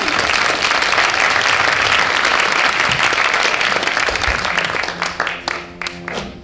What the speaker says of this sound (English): make a round of applause